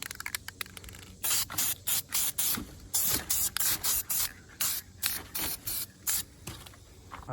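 Repeated bursts from a spray can coating a car valve cover in about a dozen short, loud hisses with brief pauses between them, each hiss close and steady, and no talking.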